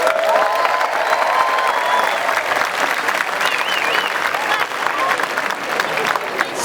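Audience at a comedy show applauding, a dense, loud, sustained wash of clapping from a packed crowd that holds steady for several seconds, with a few voices mixed in.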